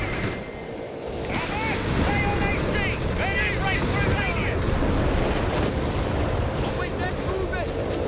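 Artillery fire and explosions rumble continuously in a Company of Heroes 3 battle between Bishop self-propelled guns and tanks, dense low booms filling the whole stretch while whistling, chirping effects sweep overhead and voices talk in the background.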